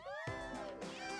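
A cat meows in Persona 5 Royal, a single drawn-out, harmonic call, loud and close over a steady game background with no talk.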